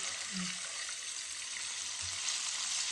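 Larb patties deep-fry in hot oil with a steady, close, crackling sizzle that holds evenly throughout, and faint low knocks sit beneath it.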